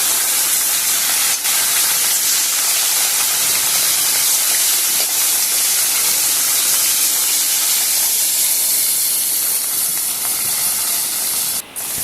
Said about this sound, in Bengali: এবার নুন হলুদ মাখিয়ে রাখা মাছগুলোকে আমি ভেজে নেব।